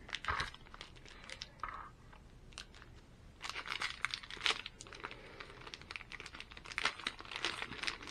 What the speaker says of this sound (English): Get them all shuffled up nice and good.